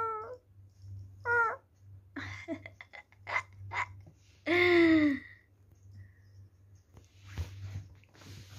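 A cat meows several times, short harmonic calls with one longer, louder drawn-out meow in the middle, close by over a steady low hum.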